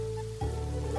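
Steady rain patters on a surface, a continuous soft hiss with a low hum underneath, no voices.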